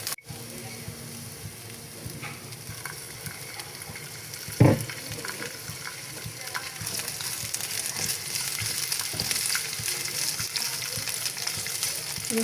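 Garlic and shrimp frying in oil for a data shak bhorta, a steady sizzle with water-like crackle running throughout, a sharp clatter near the middle and the frying growing a little louder toward the end.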